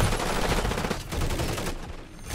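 Rapid automatic gunfire in the Call of Duty MW3 video game, dense bursts of loud shots rattling close by for a couple of seconds, with no talking over it.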